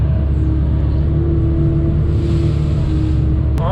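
A skid steer cuts a notch into a dirt bank on a mountainside building site, its engine a loud, steady diesel drone held without a break throughout.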